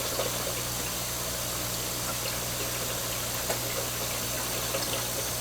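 Water draining through a 3-inch sponge in the sump of a 220-gallon aquarium and pumped out: a continuous, even rush of water with a low pump hum underneath, steady and close.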